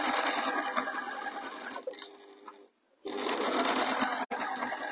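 Domestic sewing machine stitching the seams of a pie crust cushion, a steady loud whirring run that pauses briefly midway, then resumes close up with a short stop near the end.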